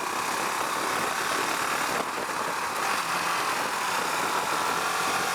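Husqvarna Vitpilen 701 motorcycle under way with a quick shifter, its engine a steady, moderately quiet drone with a brief dip around one gear change, continuous and without talk.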